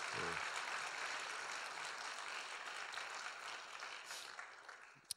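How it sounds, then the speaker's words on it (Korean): A church congregation at a New Year's Day 2016 service applauds steadily throughout, the clapping fairly faint and distant, with a brief voice at the very start. "박수로 고마워 표시했으면 좋겠습니다"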